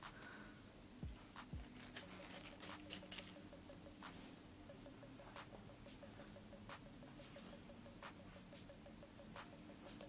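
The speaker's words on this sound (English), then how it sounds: "I'm just going to cut some of the net off in front of my face so I can see what I'm doing." Scissors trimming the lace net at the front of a wig, a brief cluster of soft close snips and rubbing early on, then only quiet faint handling against low steady background noise.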